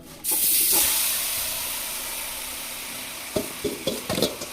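Marinated meat dropped into a hot kadai: a sudden loud burst of sizzling that settles into a steady frying hiss, followed by a few clinks and scrapes of a utensil near the end.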